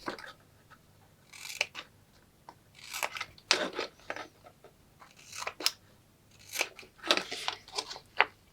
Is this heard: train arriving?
no